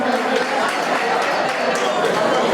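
Crowd at a gala evening applauding loudly, a dense continuous roar of clapping and cheering voices mixed together, steady and strong throughout.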